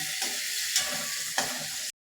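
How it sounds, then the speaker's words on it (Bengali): Tomato frying in a pan gives a steady hiss, broken by three distinct scrapes or clinks of a stirring spoon. The sizzle cuts off abruptly just before the end. "টমেটো ভাজা হবে দেখুন কী সুন্দর করে টমেটো আমি ভাজছি"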